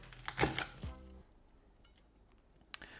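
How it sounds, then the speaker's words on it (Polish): Three garlic cloves chopped finely with a knife, a few quick close knife taps on a board at the start, then near quiet with a faint click later. "Do tego trzy ząbki czosnku. Siekamy również dosyć drobno"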